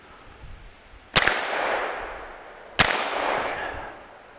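Two sharp, loud reports from a Savage A17 rifle fired at targets 100 yards away, each crack followed by a long, fading outdoor echo, about 1.7 seconds apart.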